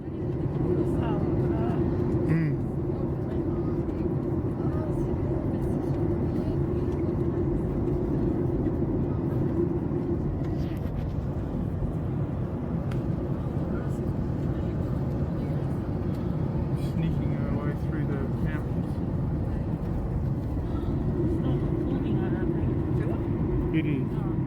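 Steady loud roar of an airliner cabin descending for landing among mountains, a constant low engine and air rumble filling the whole stretch, with people talking over it.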